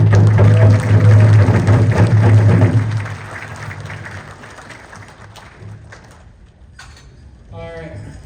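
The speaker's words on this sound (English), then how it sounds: "let's give Liam a round of applause again" Loud audience applause for Liam at the Gathering of Warriors Conference, filling the first three seconds before fading into quieter room noise and scattered sounds.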